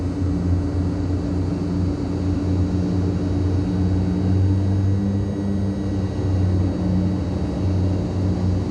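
Propeller airplane taking off in Microsoft Flight Simulator 2020 with the props pushed full forward, giving a loud, steady engine drone with a deep throbbing hum that holds constant throughout, no voices.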